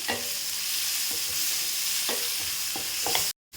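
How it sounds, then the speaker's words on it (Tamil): Tomatoes sauté in a pan with a loud, continuous sizzle, punctuated by a few sharp stirring scrapes and taps near the end, heard close up with no voices. "தக்காளிக்கு 2 உப்பு போட்டுக்கலாங்க. தக்காளி நல்லா வதங்கும்."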